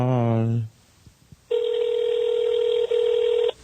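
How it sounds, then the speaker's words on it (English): Outgoing call ringback on a telephone: a steady electronic ring tone holds for about two seconds, broken by a tiny blip, after a short burst of voice at the start. "Pick up your phone already, man."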